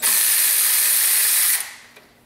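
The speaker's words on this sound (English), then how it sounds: "I'm just loosening up the tensioner on the alternator." Mechanism noise while loosening the alternator tensioner with a 12 mm tool on a Toyota Camry: a loud, close, hissing mechanical whir that runs steadily for about a second and a half, then cuts off abruptly, followed by a faint click.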